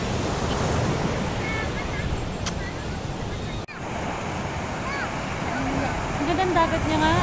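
Sea waves wash steadily onto the shore at San Juan, La Union, a continuous broadband roar with wind buffeting the microphone and a brief dropout midway.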